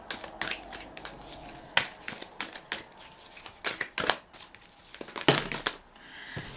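Tarot cards are shuffled by hand in quick bursts of riffling and flicking, crisp papery snaps repeating irregularly and close up, with no talking.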